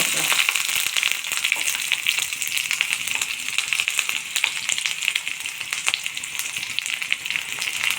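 Curry leaves and small onion sizzle steadily in ghee in a pan, a continuous bright crackling frying sound throughout with faint scattered pops and no voices.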